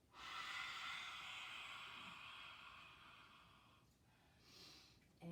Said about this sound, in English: We're going to do the lion's breath.